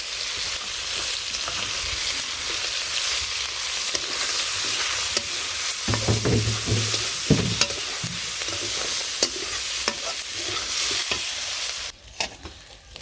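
Fish sizzling and frying in hot oil after chopped onion and garlic go in, for a village-style greens dish; a steady loud crackle with scattered spatters and a few stirring clatters, no voices.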